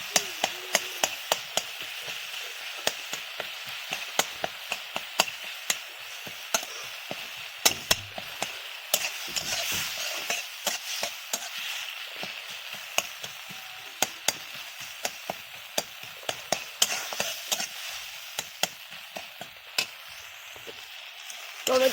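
Tomatoes cooking down in a pan, a soft continuous sizzle broken by frequent sharp clicks and taps of a spatula stirring against the pan, steady and close for the whole stretch.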